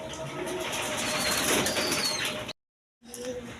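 A pair of high-flying Giribaz pigeons at a pigeon sale give soft bird sounds and faint flutters over a dense, noisy background, which cuts to a brief silence before resuming.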